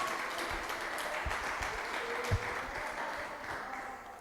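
A church congregation claps together during a worship service, steady dense applause at moderate distance that holds for several seconds with a few sharper claps.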